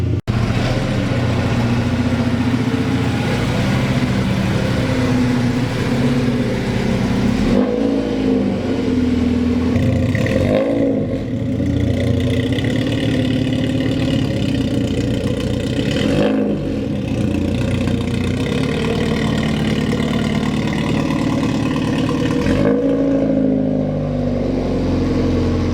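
A Volkswagen Jetta idles just after being driven out of a garage, with a steady, loud, close engine rumble that holds for the whole stretch and has a few brief shifts in tone.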